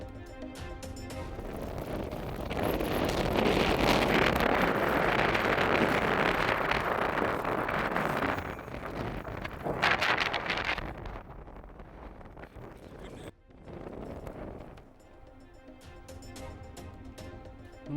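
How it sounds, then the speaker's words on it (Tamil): Sudden whirlwind gusting through Kanuvai in Coimbatore district, a loud, sustained roar of wind buffeting the microphone, swelling and easing in waves with brief lulls. "கோவை மாவட்டம் கணுவாய் பகுதியில் திடீரென சுழன்றடித்த சூறைக்காற்று"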